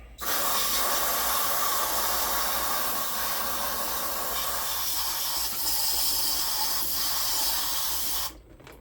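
A steady, loud hiss of aerosol cleaner sprayed into the carburetor of a Stihl MS 180 C chainsaw runs continuously for several seconds, then cuts off abruptly.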